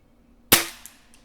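A single sharp crack from a Weihrauch HW77K air rifle firing at a self-resetting target, close and loud, followed by a couple of faint metallic ticks as the target reacts.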